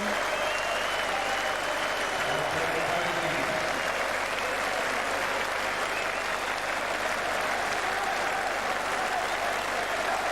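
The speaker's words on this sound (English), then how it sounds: "Standing ovation for them" Sustained, loud applause from a large crowd at a Test cricket match between England and Australia at Edgbaston, a standing ovation for departing batsmen Brett Lee and Michael Kasprowicz, steady and dense throughout with no break.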